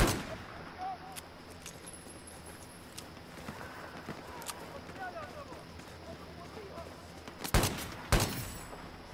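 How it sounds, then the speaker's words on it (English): Pistol shots in Battlefield 4, including a scoped .44 Magnum, crack out near the end as two sharp, loud reports after quieter scattered game sounds, with voices talking around them. "I just one shot headshot someone."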